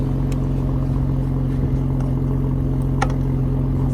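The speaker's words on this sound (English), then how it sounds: "as I put the phone next to the engine and it's ticking over, it sounds really smooth" A small engine, a 1.0-litre three-cylinder from a Citroën C1, Toyota Aygo or Peugeot 107, running on cooking oil in place of engine oil, idles steadily up close, a smooth continuous low hum with a faint tick and one brief clatter midway.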